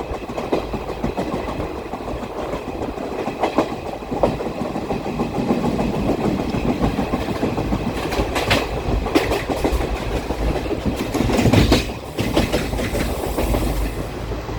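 The 22149 Ernakulam Pune Superfast Express rolls along the rails on a monsoon run near Pune, a steady loud rumble of wheels with a faint clickety-clack and brief rattling bursts throughout, no voices.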